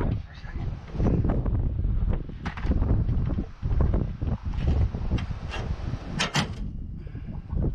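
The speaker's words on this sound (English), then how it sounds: "It's windy, guys." Strong wind buffets an outdoor rooftop HVAC unit site beside a Carrier RTU, roaring loudly and steadily into the microphone in continuous gusts with brief dips and occasional rattles.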